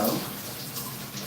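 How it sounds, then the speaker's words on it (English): Water runs steadily into a bathtub while soap is rinsed off a body, a close, continuous rushing splash with a brief louder burst at the start and no talking. "I'm just gonna rinse some soap off my body, rinse it all out with a lot of water"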